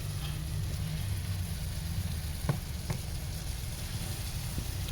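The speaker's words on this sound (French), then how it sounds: "je remue un petit peu pour que ça soit homogène, que le goût soit homogène" Tandoori chicken with courgette being stirred in a pan, giving a steady low sizzle with a few faint clicks of the utensil against the pan, fairly close and without talk.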